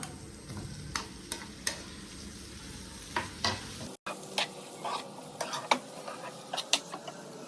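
Onion masala frying in a pan for egg curry, a steady sizzle with a spoon stirring and scraping against the pan in repeated close strokes, no talking.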